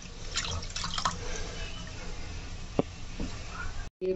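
Bathua leaves being washed in water, with soft sloshing, splashing and dripping close by, quiet and with no voices.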